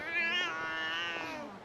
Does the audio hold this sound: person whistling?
no